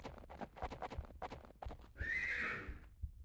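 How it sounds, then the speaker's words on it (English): A horse in a video game neighs once, a loud drawn-out whinny that rises and falls, following a run of rhythmic clip-clop hoof beats. "Horse."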